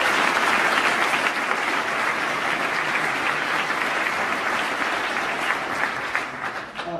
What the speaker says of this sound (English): So a huge round of applause to them.